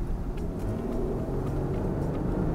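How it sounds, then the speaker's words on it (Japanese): A Lexus LX600 SUV with a 415-horsepower engine accelerates on a public road, heard from inside as a low, steady engine rumble that builds slightly over a couple of seconds, with no talk. "ちょっとこの一般道から加速をしますね。"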